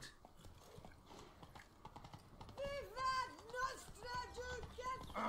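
Soft, steady clip-clop of horse hooves trotting along in The Witcher 3: Blood and Wine, mixed with bright melodic game music that swells in the second half.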